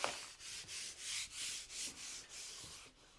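Fingernails rub repeatedly across the back of peel-and-stick PSA wood veneer laid on a substrate, making a close, dry scratching in steady strokes of about eight passes with brief gaps between them. No voices.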